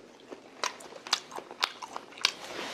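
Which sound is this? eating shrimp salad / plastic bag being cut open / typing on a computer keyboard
eating shrimp salad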